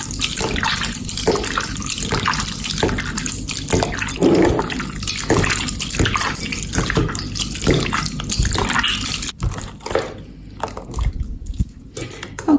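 Hot water pours steadily from a tap for several seconds, a loud, close, continuous gush with splashing that briefly thins and breaks near the end.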